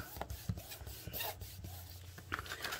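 Paper tab on a milk carton craft being folded over and pressed down, soft close rubbing and crinkling with light taps, short and quiet with no talk.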